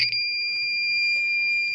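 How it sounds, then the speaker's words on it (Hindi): A DIY battery water level indicator PCB gives a steady, shrill electronic beep that holds continuously, loud and close, with no talking over it. "पीसीबी को हम जैसे ही कनेक्ट करेंगे ये बीप मारना स्टार्ट कर देगा"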